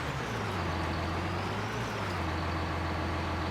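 A small tractor engine in Farming Simulator 19 drones steadily and loudly, a constant low rumble with no pauses, heard alone without talk.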